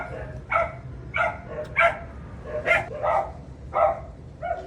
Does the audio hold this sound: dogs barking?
yes